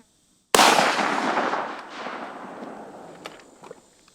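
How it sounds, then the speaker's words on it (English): A single loud gunshot fired at a target cracks close by, then rolls off in a long fading echo over several seconds. "I'm gonna shoot one more, try to hit kind of more in the middle."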